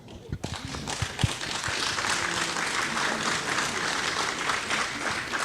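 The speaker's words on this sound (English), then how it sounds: "we should all give ourselves a round of applause" Workplace crowd at a company safety meeting breaking into a round of applause, starting with a few scattered claps before swelling into a full, steady clapping that holds to the end.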